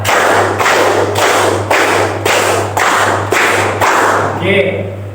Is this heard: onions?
no